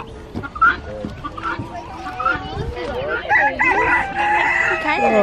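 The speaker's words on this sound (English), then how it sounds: "One of those chickens." Chickens cluck and a rooster crows repeatedly at close range among farmyard fowl, with ducks nearby; people talk over the bird calls throughout.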